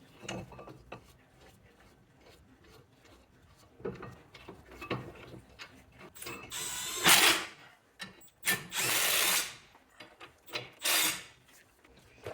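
Front brake caliper bolts, 21 mm, are tightened on a 2014-2024 Mercedes-Benz Vito, giving close mechanical rasping and ratcheting clicks with a few louder bursts of tool whirring in the second half, and no talking.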